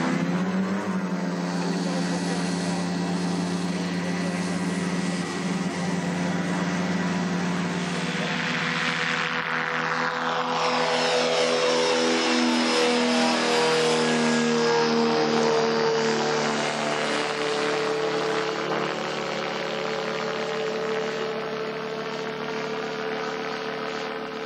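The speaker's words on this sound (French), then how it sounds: "Qu'est-ce que tu en penses si on mettait le moteur à un régime plus élevé?" Ultralight aircraft engine in flight over Indonesian volcanoes, running at raised revs with a steady, loud droning hum and shifting tonal sweeps throughout.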